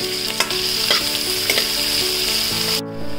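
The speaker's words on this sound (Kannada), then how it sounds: "ಅದಾದಮೇಲೆ ಸಣ್ಣಗೆ ಹಚ್ಚಿಟ್ಕೊಂಡಿರೋ ನೀರುಳ್ಳಿ ಸೇರಿಸ್ತಾ ಇದ್ದೇನೆ." Finely chopped onions sizzle in hot ghee or oil with cumin as they are stirred for a paneer mutter masala, a steady, loud frying hiss broken by periodic scraping strokes that cuts off abruptly near the end.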